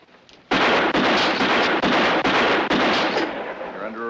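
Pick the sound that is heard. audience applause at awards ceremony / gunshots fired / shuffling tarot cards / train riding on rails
gunshots fired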